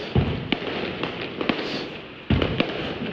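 Fireworks and firecrackers go off during last-day Chinese New Year celebrations, a string of sharp bangs at irregular intervals with a heavier burst near the end, over a steady crackling background.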